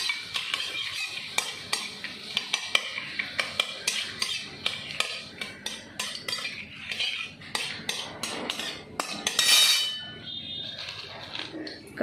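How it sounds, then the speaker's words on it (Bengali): A spoon scrapes and clinks repeatedly against a kadai while masala and Gobindobhog rice are stirred together, sharp metallic taps coming in an uneven, steady rhythm close up. "এবার এটা একটু নেড়ে নেবো। আমি কড়াতেই করছি"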